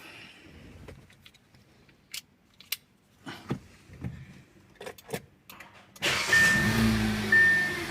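A cold car engine is started: a few quiet clicks and handling noises come first, then the engine catches and settles into a loud, steady running rumble close by for the final seconds.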